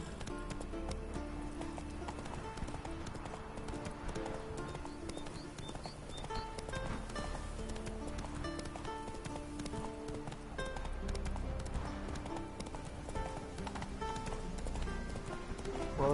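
Horse hooves galloping in Witcher 3: Wild Hunt, a steady rhythmic clip-clop that runs throughout at moderate loudness, with faint ambient game sounds around it.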